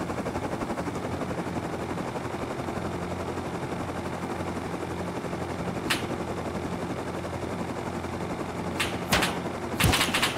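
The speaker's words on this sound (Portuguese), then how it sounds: "Para de atirar em mim!" Gunfire in the Rust survival game: a dense, rapid automatic rattle runs throughout at a steady level, with a few sharp, louder cracks standing out near the end.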